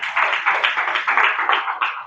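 A church congregation claps hands for God in a quick, steady rhythm, roughly a dozen crisp claps blending into a continuous patter with no voices over them.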